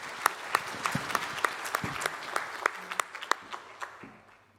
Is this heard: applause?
yes